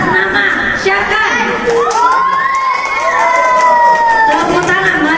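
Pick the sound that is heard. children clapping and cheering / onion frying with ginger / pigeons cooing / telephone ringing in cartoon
children clapping and cheering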